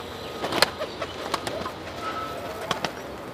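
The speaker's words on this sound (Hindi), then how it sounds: "गोल्डन कबूतर, नर मादी सब मिक्स, जो पसंद है आपको ले सकते हो।" Golden pigeons in a pet shop giving soft, faint coos and scattered brief calls, with occasional short flutters over a quiet indoor background.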